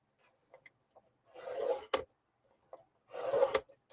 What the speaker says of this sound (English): I'm scoring that one at 1/2 inch